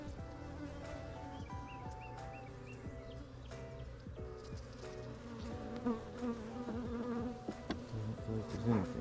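Honeybees buzz steadily and close around an open beehive during a March inspection. A dense, continuous hum carries individual passing buzzes and faint background sounds.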